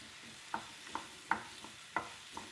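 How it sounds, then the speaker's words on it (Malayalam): Pieces of ripe banana sautéed in a pan over a low flame, a soft background sizzle broken by about six light scraping stirs at irregular intervals, close and quiet. "ചെറുതീയിലിട്ടിട്ട് വഴറ്റിയെടുത്താൽ മതി."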